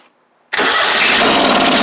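A John Deere X500 garden tractor engine with a suspected solenoid or carburetor fault cranks to start, bursting abruptly from silence into a loud, steady, close mechanical roar.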